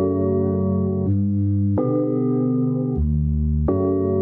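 A resampled, detuned synth chord pattern shaped with EQ and glue compression, with sustained chords changing in four blocks, steady and loud on its own.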